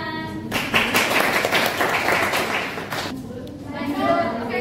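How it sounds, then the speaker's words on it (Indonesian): A classroom group of children bursts into a dense round of hand clapping lasting a couple of seconds, with young voices chattering just before and after. "Oke, tepuk tangan."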